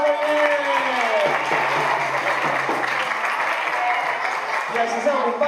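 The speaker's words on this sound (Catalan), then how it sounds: "Un fort aplaudiment." Steady applause from an audience fills the whole stretch, a dense clapping wash with voices mixed in underneath.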